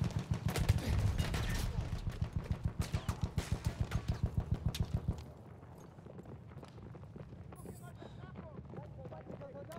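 Rapid bursts of automatic gunfire from the Battlefield 1 video game rattle loudly in a steady rhythm for about five seconds, then give way to quieter, scattered battlefield noise.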